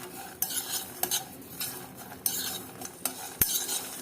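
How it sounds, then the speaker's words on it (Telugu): Sesame seeds are stirred in a hot pan after the stove is switched off, a spoon scraping and tapping the metal in quick repeated strokes, sharp clinks standing out over a faint crackling sizzle, no voices. "స్టవ్ ఆఫ్ చేసుకున్నాక కూడా ఇలా కాసేపు తిప్పుకుంటూ ఉండాలండి."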